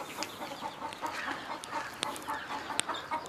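Hens in a laying coop give soft, repeated clucks and brief calls, fairly faint against a steady background hiss.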